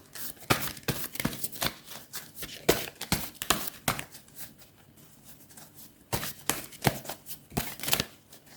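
Oracle cards are shuffled by hand in quick, papery riffles and flicks, coming in two close bursts separated by a quieter pause.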